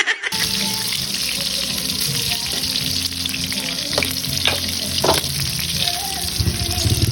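Steady sizzling of eggplant frying in a pan, with occasional scraping and stirring clatter; constant, close and moderately loud.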